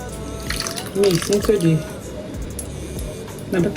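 Thick blended pepper, tomato, tatashe and onion pours and splashes into a pot of beans in short wet bursts, close and moderately loud.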